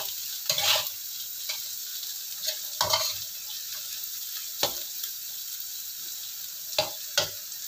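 Tempeh fries in a pan with a light, steady sizzle, punctuated by several sharp scrapes and clinks of a spatula turning the pieces, close and fairly quiet, no voices.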